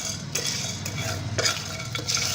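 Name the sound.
whole spices dry-roasting in a pan on low flame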